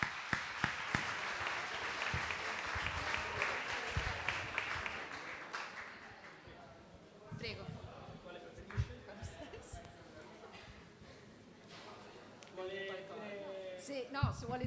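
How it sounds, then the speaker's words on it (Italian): Audience applause at an award ceremony honouring a provincial education official, a lively round of clapping for several seconds that fades, followed by talking and a few scattered claps. "Facciamo un applauso."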